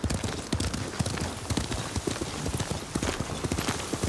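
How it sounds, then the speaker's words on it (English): Horse hooves clip-clopping in the video game Ghost of Tsushima, a steady rhythmic trot of close, loud hoofbeats on hard ground, continuing without pause and with no talking. "I have this poor little horse that has clearly seen better days."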